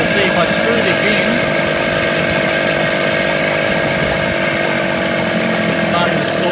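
A Tohatsu 9.8hp outboard engine idles steadily with its idle mixture screw turned in, running continuously and fairly loud at close range with a slightly uneven, faltering note as it begins to stall.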